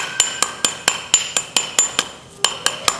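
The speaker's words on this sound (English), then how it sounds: "basically spin it and knock that flux off there" Sharp, rapid metallic hammer taps knocking welding flux off metal, about a dozen in a steady rhythm with one brief pause, close and clear with no voices.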